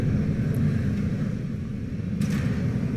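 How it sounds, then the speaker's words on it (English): SpaceX Falcon 9 rocket in flight approaching max Q, a steady deep roaring rumble that stays loud and unbroken throughout, with no voices. "Right now, the rocket is approaching what we call max Q."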